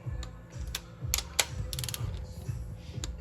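Torque wrench on SR20 cam caps, set to 8.7 ft-lb: a string of sharp, close clicks and ratcheting snaps over a low mechanical rumble, with no speech.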